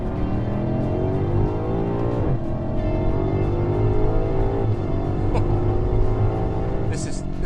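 BMW M5 Competition accelerating hard, engine note climbing in rapid rising sweeps broken by quick gear shifts, loud and close from inside the car.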